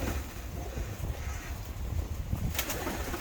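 Çayka long face ornamental pigeons cooing in a coop, a low, steady murmur of overlapping coos close by, with a brief brighter rustle near the end.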